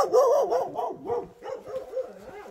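Village dogs guarding the entrance to a village bark and yip continuously at close range, one loud volley running into the next.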